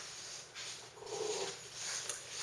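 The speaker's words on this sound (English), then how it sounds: "my dog is pawing at my leg right now" A dog pawing and panting close by indoors, with soft breathy panting and low growly huffs running continuously at a moderate level, no talking over it.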